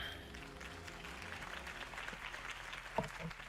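Faint crowd applause in a Batman video game, a soft bed of clapping under steady background music, with a brief sharp accent near the end.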